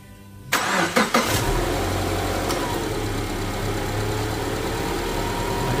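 A Subaru Liberty 2.5 L engine, just fitted with a new timing belt, cranks briefly, catches and settles into a steady, even idle that carries on close by with no talking.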